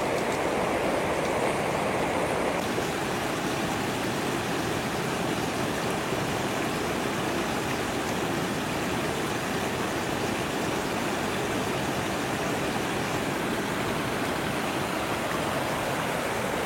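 A waterfall and stream in Trang, Thailand give a steady, loud rush of falling and flowing water, a broad continuous roar that fills the whole stretch with no voices.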